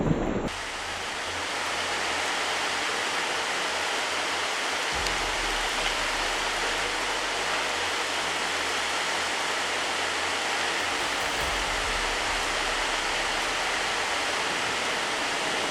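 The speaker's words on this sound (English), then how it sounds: "Typhoon Ling Ling unleashed fierce winds and torrential rain, sweeping through everything in its path" Typhoon Ling Ling lashes a Japanese island with fierce winds and torrential rain, a loud, unbroken roar of wind-driven rain that holds steady for the whole stretch with no voices.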